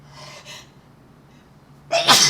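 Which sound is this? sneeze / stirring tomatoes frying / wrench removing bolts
sneeze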